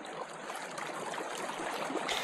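Steady rushing of flowing river water in an Unreal Engine 5 game scene built with the Fluid Flux real-time fluid plugin, a continuous, fairly close wash with no voices.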